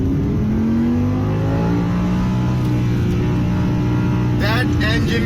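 Audi R8 V10 Plus engine revving hard while driving, loud and close, with rising and falling harmonic sweeps as it climbs through the revs and shifts, the roar continuous throughout.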